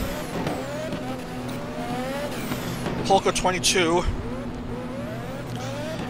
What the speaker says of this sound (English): And I keep hearing engine sounds all over.